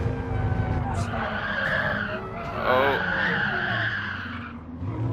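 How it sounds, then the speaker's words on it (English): A race car in a racing video game skids and loses grip on a dusty surface near the corkscrew, with loud sustained tire squeal and engine roar over a man's brief exclamation. "Just looks like the car didn't have any grip on the dusty surface"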